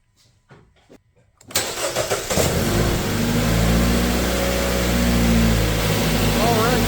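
A car's engine cranks and catches after a battery is connected, settling into a loud steady idle with a slight rev; someone talks quietly in the moments just before it starts.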